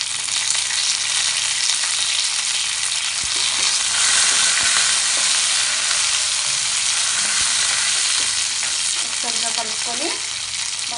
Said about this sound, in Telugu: ఇప్పుడు పోపు దినుసులు వేసుకుందాం ఇందులో నెక్స్ట్ ఎండుమిర్చి నెక్స్ట్ వెల్లుల్లి దెబ్బలు నెక్స్ట్ కరివేపాకు వేసుకుందాం